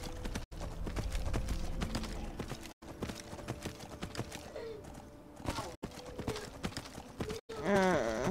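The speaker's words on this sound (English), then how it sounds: "Arvek, while he's a good horse, he's very slow." Hooves of a horse galloping in the video game Skyrim, a steady clip-clop that runs on for several seconds beneath game music and ambience, with someone talking over it.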